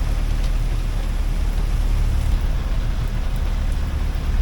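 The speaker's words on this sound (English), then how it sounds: "Still a lot of rain now." Heavy rain pouring down at sea aboard a slowed sailboat crossing the Malacca Strait, a dense, steady roar of rainfall with low rumble underneath and no voices.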